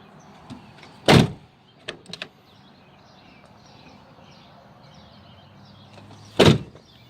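Exterior door of a Jeep XJ opened and shut, two loud solid slams several seconds apart with a few small latch and handle clicks between them, close by with no talking.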